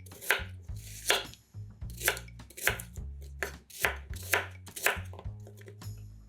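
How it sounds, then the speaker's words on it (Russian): Knife chopping five onions into rough chunks for homemade ketchup: eight or so sharp, evenly spaced cuts on a board, close and clear, with no talk. "5 луковиц тоже нарезаем произвольными кусочками."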